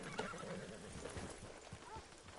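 A horse whinnies and hooves clop softly in the video game Red Dead Redemption 2, faint and distant, with a low background murmur.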